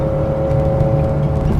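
A 1973 Porsche 911 2.7 RS hot rod on the move, its engine giving a loud, close, steady drone that climbs gently in pitch as it accelerates, with no voices.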